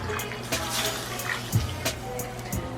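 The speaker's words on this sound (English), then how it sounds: "Okay, so the water is going in." Water poured into a cooking pot for chicken adobo, a soft running splash with a few small clunks and bumps around it, fairly quiet and close, with no talking.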